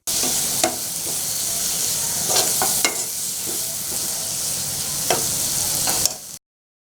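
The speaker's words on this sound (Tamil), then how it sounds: "பிறகு சீரகம், மிளகு, சோம்பு ஒரு சிட்டிகை சேர்த்து வதக்க வேண்டும்." Cumin, pepper and fennel sauté in a pan as part of a Tamil-style fried intestine (kudal varuval) dish, giving a steady sizzle broken by a few sharp spatula scrapes and clicks, close and alone with no voices.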